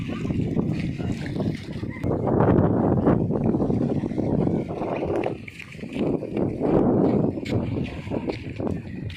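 Strong wind on a rough-sea trip toward Guiuan roars and buffets the microphone in uneven gusts, a heavy rumbling rush that swells and dips throughout.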